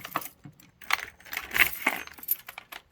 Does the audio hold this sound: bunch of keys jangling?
yes